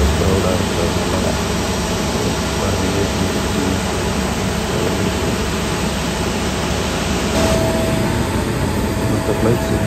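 A steady, loud roar of cabin noise fills an Emirates Boeing 777-200 in flight from Dubai to Addis Ababa, a broad constant rush of engine and airflow without breaks.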